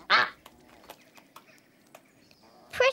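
A cartoon duck gives two short, sharp quacks, one at the start and one at the end, with faint light sounds between and no talking.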